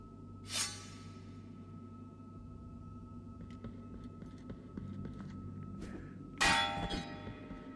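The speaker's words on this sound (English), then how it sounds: "was that particular enemy the one ringing the bell that would set those things off?" Metallic bell clangs in the video game Blasphemous: one sharp strike near the start and a louder, ringing strike toward the end, with a low hum and scattered faint clanks in between.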